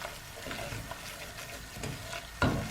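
Flour roasts in a pan on a medium flame, giving a soft, steady sizzle with gentle scraping from stirring and a sharper clack of the utensil near the end.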